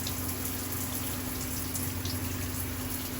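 Water runs from the shower of a 1978 Millard Mini Pop caravan, a continuous, even hiss of spray alongside a steady low hum, moderately quiet and unbroken, with no one speaking.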